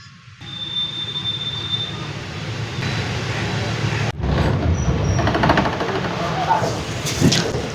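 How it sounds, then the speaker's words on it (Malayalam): A train rolls into Madurai Junction railway station on a run toward Rameswaram, giving a steady, loud mechanical rumble with a sharp shift in texture partway through and rattling clatter afterward. "അങ്ങനെ ട്രെയിൻ മധുരൈ ജംഗ്ഷൻ റെയിൽവേ സ്റ്റേഷനിലേക്ക് കയറിയിരിക്കുവാണ്"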